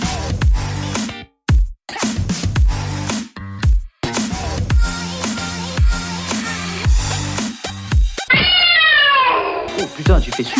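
A person imitates a cat, letting out a string of loud, close meows and drawn-out caterwauling yowls with brief pauses between them, ending in a high wavering cry.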